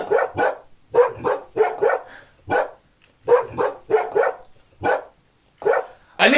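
A dog barks in quick bursts of two or three, about a dozen sharp barks in total, loud and close, with short silent gaps between the bursts.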